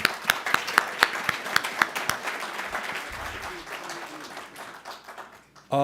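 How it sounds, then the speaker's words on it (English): Audience applause at a conference keynote for a rabbi, starting with a few sharp distinct claps that swell into a soft scattered round, moderately distant, fading out before a brief sound at the end. "he does deserve a hefty round of applause"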